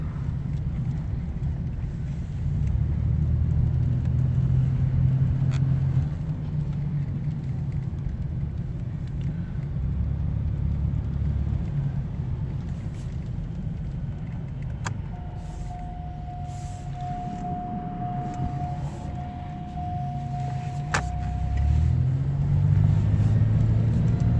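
A 1989 Buick Riviera cruising on the road in overdrive, its steady low engine and tire rumble continuous throughout, with a brief faint tone midway and no talk.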